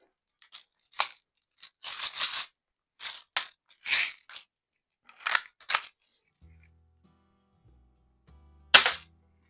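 Umarex 340 air pistol fired on a test range, with a string of sharp, close snapping shots spaced irregularly and a final loud crack after a pause.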